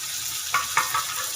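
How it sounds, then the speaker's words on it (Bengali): Chopped tomatoes fry in a pan with a soft, continuous sizzle, and two or three brief scraping strokes of stirring are heard close by, with no talking. "সব একসঙ্গে ভালো করে নেড়ে নেব, কষিয়ে নেব ভালো করে"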